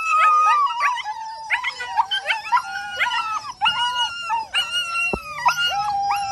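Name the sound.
puppy howling and whimpering while chewing a panel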